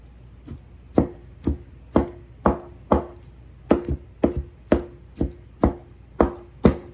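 Imitation crab is chopped on a small cutting board with a knife, giving a steady run of about thirteen crisp, close thuds at a brisk, slightly uneven rhythm, with no talking.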